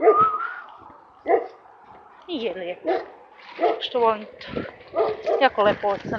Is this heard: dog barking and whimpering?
yes